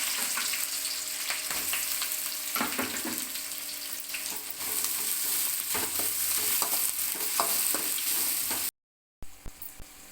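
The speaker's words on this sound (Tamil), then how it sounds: "எண்ணெய் சூடாக இருந்தோன்னா கருவேப்பிலை சேர்த்துக்கலாம் அடுத்து வெங்காயத்தை சேர்த்துக்கலாம்" Onions and curry leaves fry in hot oil for paneer pepper fry, a loud dense crackling sizzle with stirring scrapes that cuts out abruptly near the end, followed by a few faint knocks.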